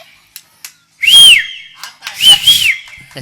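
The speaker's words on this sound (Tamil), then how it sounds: "நானும் விசில் அடிப்பேன்ல" Two bright, sharp whistle bursts, the second a double note, ring out from a performer on the stage of a Tamil village drama of Harichandra, over a noisy open-air background.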